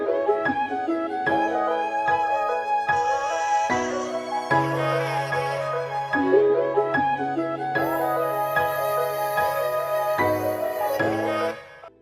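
Balkan Ethnic Orchestra string sound from Contact layered over a flute loop, playing a sustained melodic phrase with steady rhythmic chords and held bass notes in a hip-hop beat, loud and continuous with no talking.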